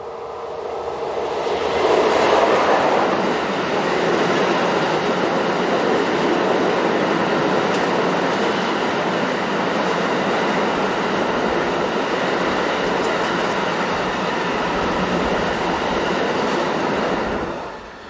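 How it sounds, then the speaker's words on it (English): Locomotive 36009 hauls a heavy freight train of steel coil bound for the steelworks, a loud, steady rolling rumble that swells early and continues unbroken until fading at the very end, with no voices. "This is 36009, heading a trainload of coil bound for the steelworks around Charleroi in Belgium"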